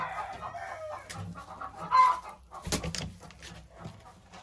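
Dark Shell hens in a backyard coop cluck and chatter, with short bursts of clucking and a few louder squawks rising over a quiet farmyard background.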